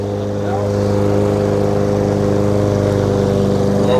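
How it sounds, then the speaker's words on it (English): A lawn mower runs steadily while mowing a side yard, a loud, constant droning engine hum that holds at an even level from start to finish, close to the listener. "Mowing, mowing, mowing. We got to keep on mowing."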